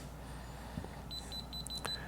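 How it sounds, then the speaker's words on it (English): A KAIWEETS KM601 digital multimeter in non-contact voltage mode, held near live power, gives a series of short, faint high-pitched beeps in a rapid irregular pattern over a quiet background hum. "The red light comes on and it's beeping."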